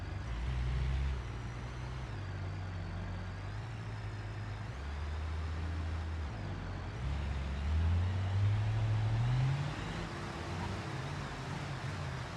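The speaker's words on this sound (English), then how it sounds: "We're empty right now, so the truck is actually handling just fine with all that" An empty semi truck pulling a tanker trailer in BeamNG, its low diesel drone rising and falling through gear shifts, with a faint whine riding above it. The sound is steady and close.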